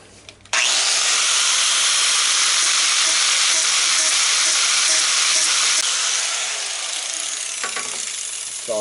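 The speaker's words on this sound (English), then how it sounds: "now I can hit it with my regular sander and the finer grit" A power sander with fine grit works over a turned wood vase, a loud steady broadband hiss that holds for several seconds before easing off slightly near the end, with no talk.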